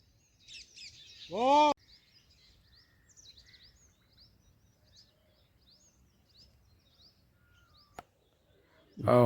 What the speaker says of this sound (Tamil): மைனா அடைக்கலத்தான் குருவி சிட்டுக்குருவின்னு சொல்லுவோம்